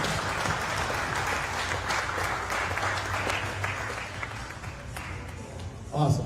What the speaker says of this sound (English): Hand of applause, guys.